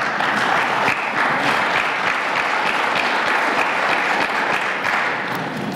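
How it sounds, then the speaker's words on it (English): Steady audience applause fills a candidate forum hall, dense and continuous clapping from a sizable crowd with no talking over it. "People are applauding"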